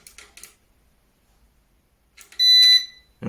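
An Eaton 5E 850i UPS gives a loud, steady electronic beep lasting about half a second as it powers on, with a tonal alarm quality, preceded by brief faint rustles.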